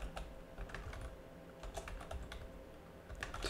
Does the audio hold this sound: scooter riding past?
no